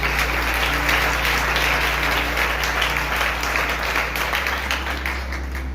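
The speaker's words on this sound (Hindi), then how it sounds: "खुदावंद के लिए और पास्टर शील साहब के लिए जोरदार तालियां बजाएंगे।" A church audience applauds loudly for the Lord and the pastor, a sustained wash of many hands clapping with a low hum underneath and no talking.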